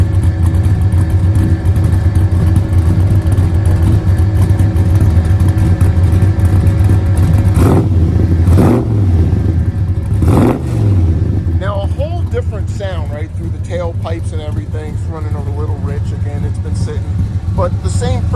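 A carbureted LS 5.3 V8 in an El Camino with 2.5-inch exhaust idles with a loud, steady rumble, then blips sharply twice before settling into a lumpy idle, with people talking over it.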